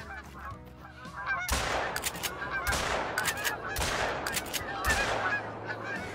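A flock of geese honks loudly overhead during a goose hunt with a Labrador retriever, repeated nasal calls overlapping in bursts, broken by several sharp shotgun blasts fired close by in quick succession.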